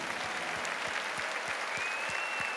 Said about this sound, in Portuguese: Salve de palmas para todos aqueles que nós amamos e que já se foram.